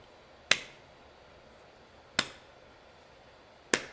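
Hands clap three times in a rhythm exercise, each clap a sharp, crisp smack spaced evenly about one and a half seconds apart, close and alone in an otherwise quiet room.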